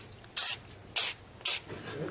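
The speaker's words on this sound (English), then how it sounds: "So just to make sure, I'll spritz it with the accelerator." Three quick spritzes from a spray bottle misting glue accelerator onto a guitar under repair, each a short sharp hiss about half a second apart, close and clear over a quiet room.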